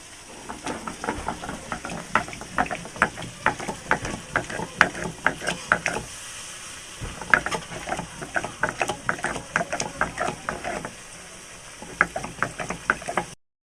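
Cumin being ground by hand for a Bengali fish-head curry: rhythmic, gritty scraping strokes repeating steadily, pausing briefly midway, then resuming; close, fairly loud and without talk.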